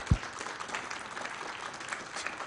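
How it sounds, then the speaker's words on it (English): Audience applause after a speaker's call to thank two volunteers at a network marketing professionals' association event: a steady wash of clapping from a crowd, fairly faint and distant, continuing evenly throughout. "So I want to give them a round of applause if you don't mind."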